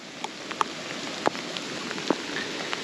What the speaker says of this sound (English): if it kept raining like this